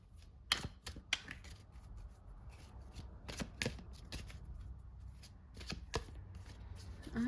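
Quiet tarot cards being shuffled by hand, with repeated sharp riffling bursts and soft slides in an irregular rhythm.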